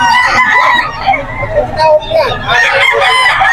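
A sweater gamecock rooster crows loudly and close at a crowded pre-dawn chicken market in Bocaue, Bulacan, its drawn-out call rising and falling over a steady hubbub of voices and other birds.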